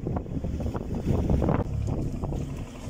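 Wind gusts roar across the microphone while an old gaff cutter is relaunched, a loud, buffeting rumble that swells and fades over a few seconds, with no talking.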